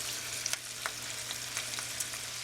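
Gold potatoes frying in oil, a steady hiss of bubbling fat with small pops and crackles scattered throughout, close and moderately quiet, with no talking.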